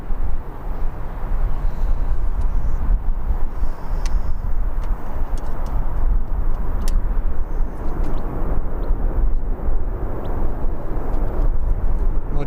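A Boeing 787 Dreamliner at Birmingham Airport gives off a broad, steady jet roar heard from a distance outdoors, with wind buffeting throughout and no voices.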